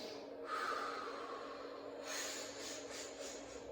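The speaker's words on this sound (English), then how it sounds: "use that repetitive breath to help pump you up" A repetitive breathing exercise gives close, forceful breaths through the nose and mouth, one strong inhale followed by a run of quicker, rhythmic breaths, with no talking.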